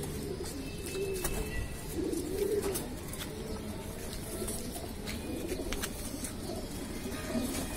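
Racing pigeons cooing in a loft, soft repeated low coos from several birds close by over a quiet background hiss, with no talking.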